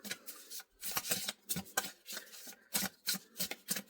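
Tarot cards shuffled by hand in quick bursts, crisp riffling flutters repeating in an uneven rhythm, close and clear with short pauses between each riffle.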